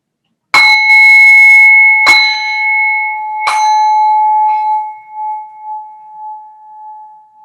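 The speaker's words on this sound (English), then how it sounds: "tune your inner ear to the sound of the bell" A meditation bell is struck three times at a slow, even pace, each clear metallic ring sustaining and overlapping, then a final soft tap decays into a long fading hum in otherwise silent surroundings.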